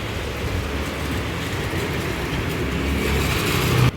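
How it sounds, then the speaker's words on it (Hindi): Steady, dense hiss of rain fills the whole stretch, constant and moderately loud, with a low rumbling undertone. "आरब ने आवाज़ सुनी तो बाहर के लिए दौड़ने लगे कि बारिश हो रही है"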